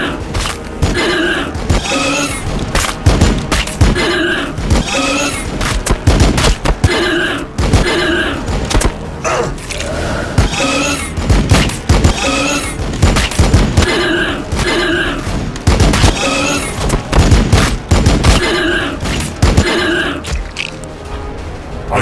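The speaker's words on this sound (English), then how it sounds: "Taking fire!" Rapid bursts of gunfire in the Warhammer 40,000: Battlesector video game, repeated volleys and thudding impacts cracking steadily and loudly throughout, with a dense battle din underneath.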